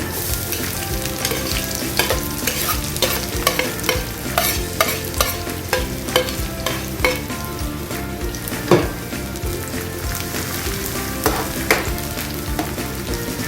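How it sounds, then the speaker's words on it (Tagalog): Sliced garlic fries in hot oil in a pan for fried peanuts, a steady, close, dense sizzle with frequent scraping stir strokes running throughout and no talking. "Lalagay na po natin ang ating bawang sa kawali."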